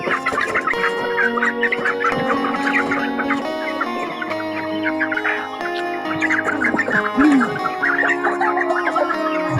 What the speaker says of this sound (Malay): Saya ada lagi sekor anak Brahma jantan.